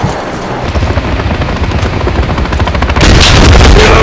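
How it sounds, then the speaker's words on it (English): An armored helicopter hovering overhead in the Call of Duty Modern Warfare 3 video game, with a loud, continuous rotor thump under rapid bursts of gunfire that grow heavier near the end. "Kony armored helo is overhead"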